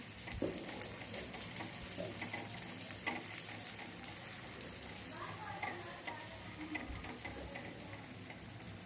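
A chapati roll with cheese inside fries in ghee on a griddle over medium heat, giving a low, steady sizzle with faint ticks and clicks against a noisy background.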